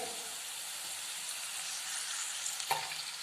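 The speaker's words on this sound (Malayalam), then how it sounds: "കുറച്ച് വിനാഗിരി ഒഴിച്ച്" Vinegar poured into a hot pan for kanthari white pickle, a soft continuous sizzle and hiss at low volume, with a small clink of a utensil near the end.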